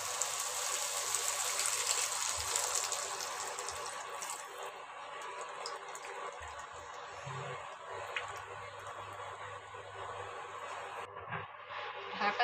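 Water is poured into a pan of potato and pointed gourd curry after the spices are fried, giving a steady gushing splash that fades to a softer trickle and a sizzle, close by, with small clinks and no speech.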